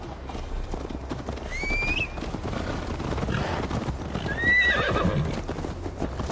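A horse in the Assassin's Creed Valhalla video game, with quick clip-clopping hoof beats over a rumbling ride and two shrill whinnies that stand out above the steady gallop.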